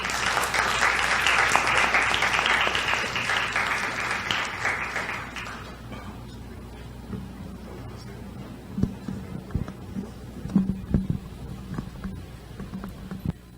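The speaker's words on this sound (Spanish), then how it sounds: "Un aplauso para" Audience at an international academic colloquium panel applauds for about five seconds, full and even, then the clapping stops, leaving room noise with scattered knocks and shuffling.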